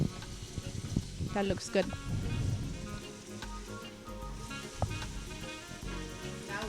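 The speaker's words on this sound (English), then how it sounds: "Now we could give it time, the onion and the paprika to saute together" Onion and paprika sautéing in a pan for Ethiopian misir wat (lentil sauce), a soft continuous sizzle running under people talking nearby.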